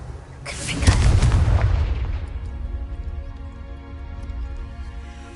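Confringo fire spell in Hogwarts Legacy on PS5, a heavy booming explosion that swells within the first second and then rumbles away into a long low tail.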